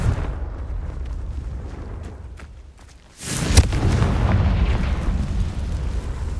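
A Confringo fire-blast spell explodes in Hogwarts Legacy: a sudden loud burst cuts through steady game ambience and gives way to a sustained roaring rumble that lingers afterward.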